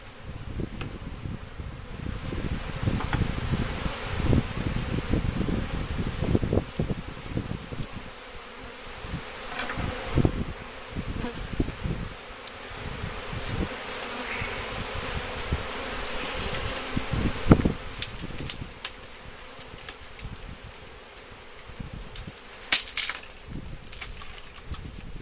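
Honeybees from a newly installed package buzz steadily around the hive box at close range, a continuous droning hum with scattered louder passes and occasional wingbeat bursts, no voices.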